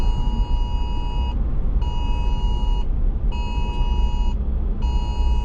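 An emergency alert tone from a phone during a Santa Clara County shelter-in-place order: a loud, steady electronic beep in four long bursts with short gaps, over a constant low rumble.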